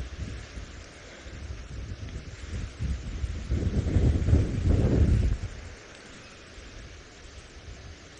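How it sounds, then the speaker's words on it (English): Strong wind buffets the microphone on an open safari drive, a deep rumbling roar that swells and peaks through the middle before easing off, with no other sound breaking through. "It's very windy"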